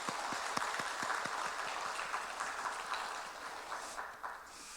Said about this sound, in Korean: 힘차게 박수하겠습니다.